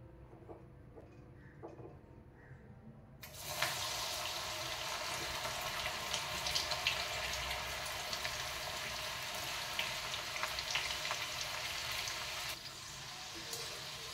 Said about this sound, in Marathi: आता आपण या ज्या गवारीच्या शेंगा आहेत त्या यामध्ये फ्राय करून घेऊया